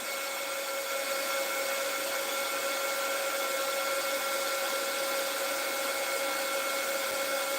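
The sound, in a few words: embossing heat tool drying a craft project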